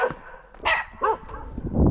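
A dog barks three or four times close by in short, sharp bursts with gaps between them, followed by rustling.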